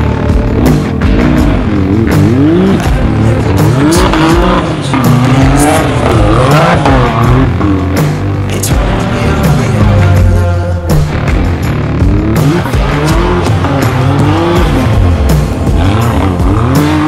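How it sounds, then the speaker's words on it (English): A Maverick pickup truck revs hard on a street, its engine loud and close with rising and falling pitch sweeps and tire squeal running continuously throughout. "I think we should just go rip the Maverick one more time on the street"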